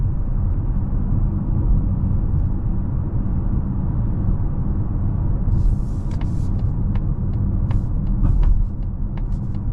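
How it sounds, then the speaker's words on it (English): Steady low rumble of tyre and road noise inside a 2026 Mazda CX-50 Turbo cruising along, a continuous even drone with a few faint clicks and rattles toward the end, no talk. "You hear a bit of road noise and everything."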